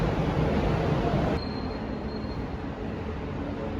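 The Zurich airport terminal shuttle train rumbles along with a steady broadband roar and a thin high whine, the noise dropping slightly partway through as it runs on.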